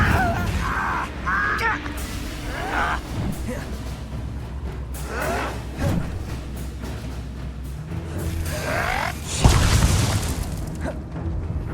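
In the video game Hogwarts Legacy, the Incendio fire spell is cast amid a dense battle mix of booming bursts, whooshes and crackles, with a loud blast near the end and occasional game voices.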